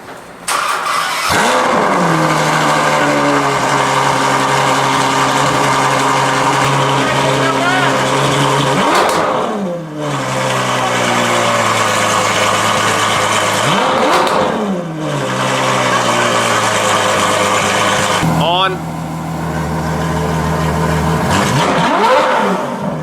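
A Ferrari F12 V12 on straight pipes fires up and revs repeatedly, with loud close engine roar rising in sweeping blips and falling back to idle several times. Brief voices are audible between the revs.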